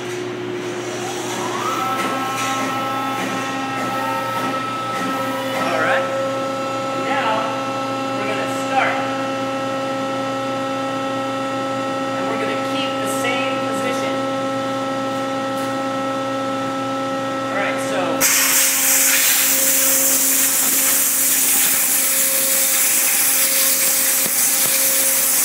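A waterjet cutter with its pump running at 55,000 PSI hums steadily with rising tones, then the cutting jet erupts into a loud, sustained broadband hiss as it pierces holes in geodesic dome struts.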